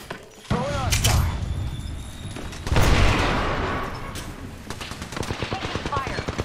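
Gunfire in the shooter game Apex Legends, several sharp bursts and rapid rattling shots with booms, near and loud, with brief speech.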